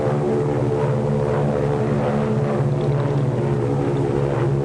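Steady propeller-plane engine drone from a 1939 film, a search plane's engine holding a continuous loud hum with strong low harmonics and no pauses.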